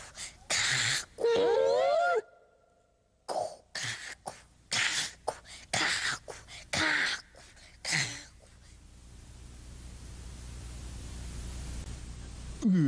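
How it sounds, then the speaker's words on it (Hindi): A cartoon character snores in a series of loud, rasping snorts with a brief whistling wheeze, then the sound gives way to a rising hiss of background noise. "खर्राटों की आवाज है।"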